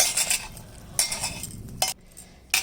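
Chicken being mixed by hand with marinade, salt and onion in a bowl, giving wet squelching and scraping bursts with occasional clinks, close and fairly quiet, no voices.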